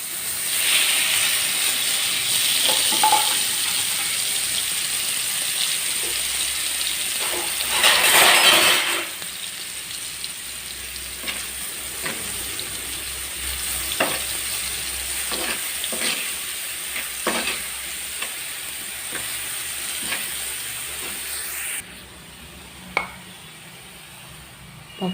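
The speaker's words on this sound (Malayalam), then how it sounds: "കുറച്ച് വെളിച്ചെണ്ണ ഒഴിച്ച് ഉള്ളിയും വെളുത്തുള്ളിയും ചതച്ചത്" Crushed onion and garlic fry in coconut oil with a loud, bright sizzle and steamy hiss that softens into intermittent crackles and spatters, with occasional clinks of a utensil against the pan and no talking.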